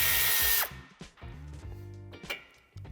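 Power tool spinning off a nut during tow-hitch fitting on a 2013-2017 Škoda Octavia III five-door, a loud high whirring burst followed by short intermittent buzzing pulses close by.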